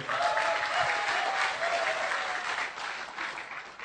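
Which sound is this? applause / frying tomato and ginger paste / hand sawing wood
applause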